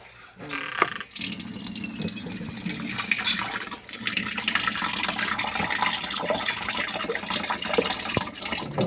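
Tap water runs steadily into a sink while a three-year-old child rinses dishes, a loud, close, continuous splashing flow with brief clinks, starting after a short quiet moment.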